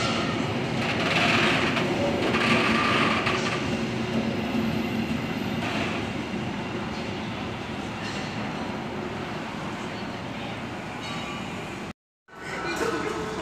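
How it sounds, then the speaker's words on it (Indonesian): Argo Parahyangan passenger train passing through Manggarai station, a continuous loud rumble of wheels and carriages rolling by close up, steady throughout and briefly cut near the end. "Kereta api Argo Parahyangan"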